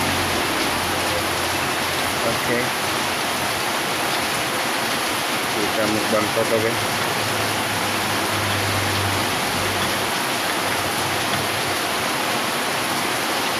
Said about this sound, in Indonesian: Di luar sana sedang hujan guys.